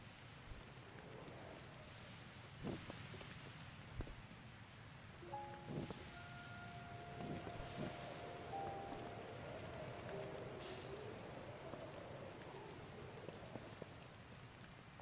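Steady rain falls in The Legend of Zelda: Tears of the Kingdom, a soft constant hiss of drops with occasional faint taps and a few brief tonal game sounds, heard alone at low level.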